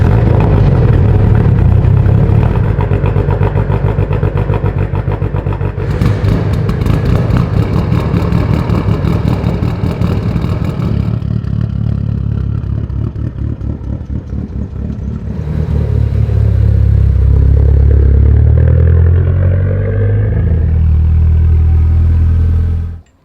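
A car engine in a shop turns over and runs after sitting unused a long while, a loud steady clattering idle that shifts pitch midway as the revs change, cutting off abruptly at the end.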